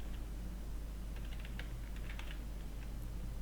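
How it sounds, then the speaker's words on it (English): Steady typing on a computer keyboard, a quick run of light key clicks over a constant low hum, with no one speaking. "start typing the field names and the data types in this table"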